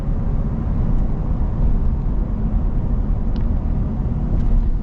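A lifted Ford F-350 Super Duty pickup on the move, heard as a loud, steady low rumble of engine and road noise inside the cab, continuous with no talk.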